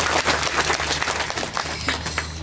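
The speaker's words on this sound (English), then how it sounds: "How about a round of applause for her?" Short round of audience applause at a bird show at Reptile Gardens near Mount Rushmore, steady clapping over a low hum from the venue's sound system.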